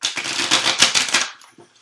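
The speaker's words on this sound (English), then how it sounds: "I am shuffling these cards." Playing cards shuffled by hand in a tarot-style reading, a dense rapid riffle of flicking card edges lasting over a second, then a few soft taps as the deck settles, close and fairly loud with no voice.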